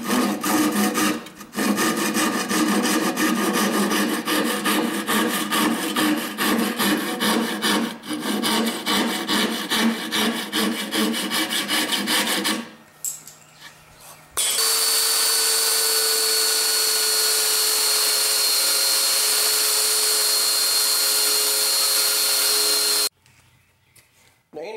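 A power saw cuts spline slots into the corners of a wooden picture frame, a loud continuous buzzing cut that stops briefly, then a steady high whine of the running tool before it shuts off.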